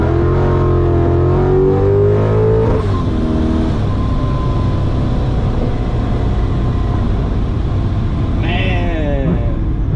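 A supercharged 2017 Corvette Z06 with a 416ci engine and ProCharger F1A-94 revs hard and climbs in pitch, shifts gear with a brief dip, then pulls again in second gear, roaring close up throughout.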